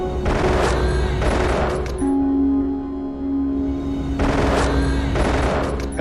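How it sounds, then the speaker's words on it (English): Gunfire in a film scene as a man bursts from a courthouse closet and shoots two men: dense bursts of rapid shots, a lull with a steady ringing tone, then another loud volley. "Carl Lee jumps out of the closet and starts shooting them"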